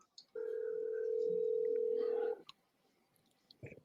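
A single long ring tone on an outgoing phone call, a steady electronic hum held for about two seconds, followed by quiet line noise and a faint click.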